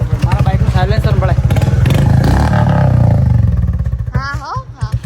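Motorcycle riding along with a steady, loud low engine drone and exhaust rumble throughout, while voices talk over it.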